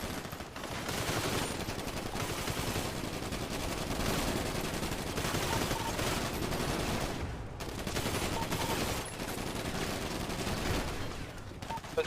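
A GTA V roleplay shootout brings sustained bursts of automatic gunfire at a steady, moderately loud level. Several volleys are split by brief pauses, and no voices are heard.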